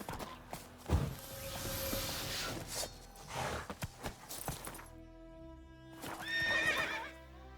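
Roach the horse in the video game Witcher 3 gives a sharp whinny, followed by a burst of hoofbeats as it gallops away, with a second shrill neigh near the end, all heard close and without any talk.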